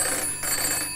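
A telephone rings with a bright, steady electronic trill, close and continuous for about a second, with no speech over it.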